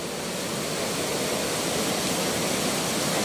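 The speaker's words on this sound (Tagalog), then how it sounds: "Yan na yung falls." Ditumabo Mother Falls waterfall in Baler, Aurora, roaring as a steady, dense broadband wash of falling water that stays even and continuous throughout, with no voices over it.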